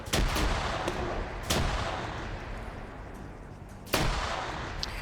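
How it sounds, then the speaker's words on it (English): Booming grenade explosions in a video game firefight, with three heavy blasts at irregular intervals, each trailing into a long rumbling decay over continuous loud battle noise. "They're throwing grenades on it"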